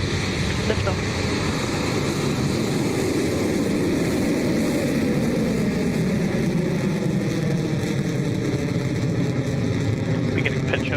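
Rocket Lab Electron rocket lifting off from Launch Complex 1 at Māhia, New Zealand, a steady, dense low roar that fills the whole span at constant loudness without letting up.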